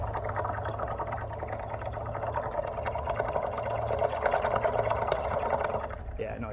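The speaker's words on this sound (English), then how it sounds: "it's actually draining the oil" Engine oil drains in a steady pour from a two-door Chevrolet Tahoe, a continuous liquid splatter over a low background hum, close by and fairly even throughout.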